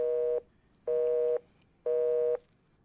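Telephone tone after a call ends: three identical steady beeps about half a second long, evenly spaced by pauses of similar length, clean and close.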